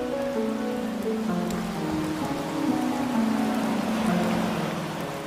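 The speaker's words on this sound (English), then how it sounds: "It rained for 40 days and 40 nights." Steady rain patters across a surface, a dense continuous hiss with faint tonal hum beneath it.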